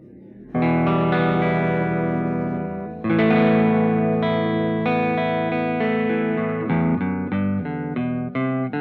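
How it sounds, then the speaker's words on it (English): Sustained synth or guitar chords washed in a long, spacious reverb, with thick lingering tails blending each chord change into the next. "huge atmospheric ambient ethereal reverbs"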